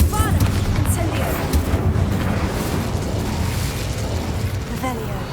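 Bombarda blasting spells in the Hogwarts Legacy game going off in a fight, with dense booming bursts and crackling debris spread over several seconds amid ongoing combat noise.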